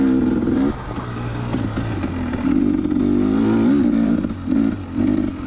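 A 2019 KTM 250XC two-stroke dirt bike climbs an uphill trail at Prospect OHV, its engine loud and close, revving and bogging in surges with brief throttle drops and rising bursts, no talk.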